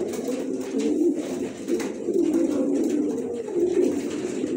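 Pigeons, including a white one, coo steadily nearby in a loft, their low throaty rolling calls overlapping in continuous waves.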